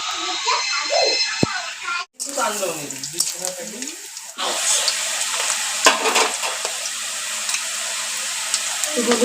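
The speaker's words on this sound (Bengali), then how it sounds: "আলুগুলো ভেজে নিচ্ছি আলুগুলো লাল লাল হয়ে যাবে ভাজা" A person talks over a quieter kitchen background, then a loud, steady sizzle of potatoes frying in a wok takes over with light stirring clatter.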